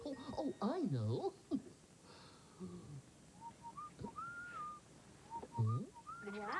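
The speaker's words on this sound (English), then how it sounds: "That wasn't me whistling." Someone whistles a tune by mouth: a high, clear melody with rising and falling notes in short phrases and pauses between them. Voices speak over parts of it.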